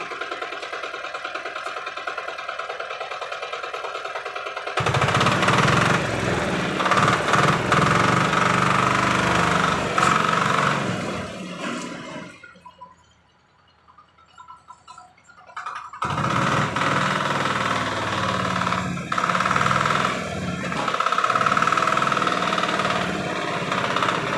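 A ZIM-350 tractor engine running in raised first gear during a clutch test: a steady, close mechanical engine clatter that is loud throughout, drops away briefly in the middle, then resumes.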